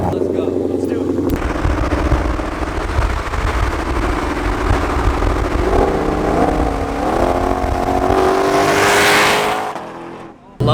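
A twin-turbo Roush Mustang roars loudly up close, holding a heavy rumble before pulling through rising gear sweeps that climb to a high whine, then cuts off abruptly; people talk over it.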